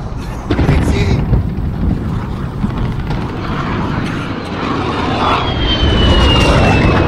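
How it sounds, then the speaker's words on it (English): Enemy VTOL jet roaring overhead in Call of Duty Modern Warfare, a loud, continuous broadband rush of engine noise that swells and stays close, with scattered distant thumps beneath. "Enemy VTOL jet in the AO."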